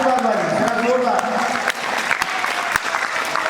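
Applause at a Hindu wedding ceremony, a dense, steady round of clapping from a crowd that holds for several seconds. A voice speaks over it at the start.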